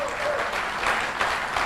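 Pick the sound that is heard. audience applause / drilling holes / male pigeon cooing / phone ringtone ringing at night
audience applause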